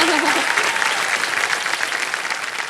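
A studio audience on the Indian game show Kaun Banega Crorepati (KBC) applauds, with steady, dense clapping that fills the room loudly and evenly throughout.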